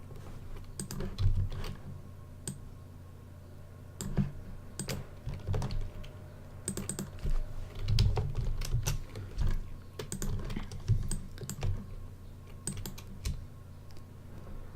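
A computer mouse clicks repeatedly while a digital drawing is coloured with a wand selection tool, sharp isolated clicks arriving irregularly in small clusters over a quiet room background, no one talking.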